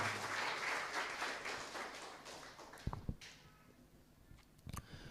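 A congregation claps in applause at a church gathering in Pune, a broad steady wash of hand claps that fades after a few seconds, with a couple of sharper taps near the end.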